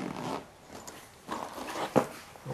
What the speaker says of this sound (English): and unzip it.